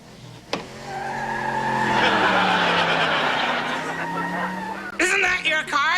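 A car engine revs up in a rising, strained tone with squealing tires skidding, loud and close, cut off by a burst of laughter and voices at the end.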